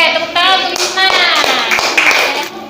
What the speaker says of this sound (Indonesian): tepuk tangan untuk Isna.